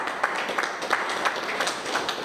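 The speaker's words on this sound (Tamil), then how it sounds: "கைத்தட்டு." An audience claps at a religious Thiruvasagam conference, a steady patter of many hands, moderately faint and continuous with slight rhythmic swells.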